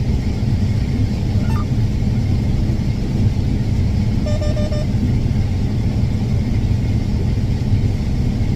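A combine harvester runs steadily while unloading grain on the move, a loud continuous low engine rumble and drone with a brief whine rising over it partway through.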